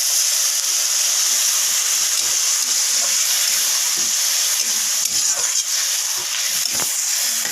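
Egg and pointed gourd curry frying in a covered pan: a constant bright hiss and sizzle, close and steady, with faint scattered pops and clicks, and no talk.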